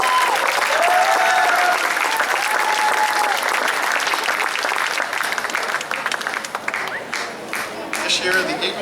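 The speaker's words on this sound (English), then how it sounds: "Let's give him a big round of applause." Steady applause from a crowd at a school varsity sports awards event, loud and dense throughout, with voices murmuring underneath and the clapping thinning slightly toward the end.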